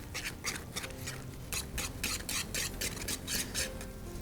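A whisk stirring polenta in a pan: a quick, steady run of soft scraping strokes, close and fairly quiet, with no talking.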